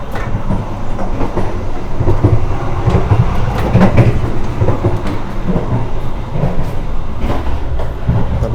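Inside an economy carriage of a Semarang to Jakarta train, the train rumbles steadily along the rails, a continuous heavy roar with faint rhythmic clicks of the wheels, loud and close.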